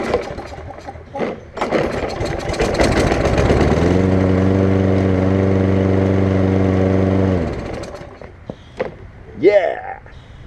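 Small lawn mower engine, just repaired after a plugged carburetor, sputters through a few cranking attempts and then catches into a steady, loud running hum for several seconds before cutting out, with voices before and after.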